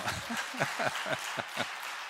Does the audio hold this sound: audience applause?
yes